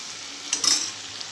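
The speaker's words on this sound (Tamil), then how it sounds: "இதோ வதங்கணுங்க" Paneer butter masala ingredients sautéing in a pan, a soft steady sizzle with a brief louder stir-and-scrape burst in the middle, heard alone without talk.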